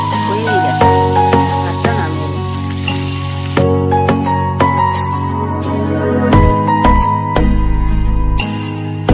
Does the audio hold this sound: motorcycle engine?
no